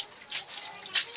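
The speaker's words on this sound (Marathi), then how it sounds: "आता याच्यावर आपण पाणी मारून ओलं चिप्प करूया" Water sprayed onto a vermicompost bed about one to one and a half feet deep, a brief hissing splash that swells and fades, close by with no voices.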